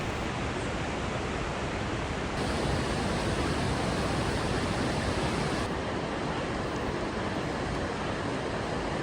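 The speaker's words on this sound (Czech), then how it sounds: "Dříve než spatříme vlastní řeku, slyšíme hukot její peřejí." River rapids roar in a valley on the Makalu Base Camp trek, a loud, constant, broadband rushing wash with no pauses and no voices.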